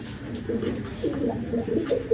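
An old Ferozpuri pigeon hen, six or seven years old, coos in low rolling phrases repeated several times, close and clear, with faint background noise.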